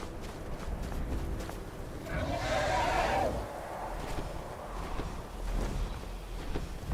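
A horse neighs in the Skyrim video game, one whinny rising over a steady bed of game background sound, with hoof and footstep noises scattered faintly around it.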